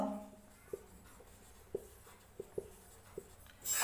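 Chalk or pen tapping and scratching while an answer is written during a physics class, a few faint, sharp taps spaced irregularly against a quiet room.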